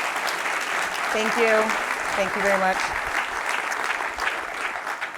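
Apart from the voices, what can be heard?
audience applause for Andrea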